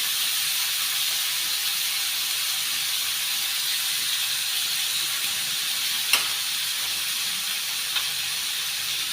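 Red chili powder sizzles in a hot cooking pan with a steady, soft hiss throughout, broken by a faint clink or two, with no talking.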